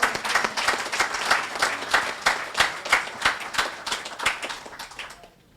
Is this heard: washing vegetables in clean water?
no